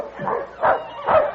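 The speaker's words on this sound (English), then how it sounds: "Do you hear that? A dog team." A dog team barks in a radio drama set on an Arctic expedition, three yapping barks at an even pace, fairly close and clear.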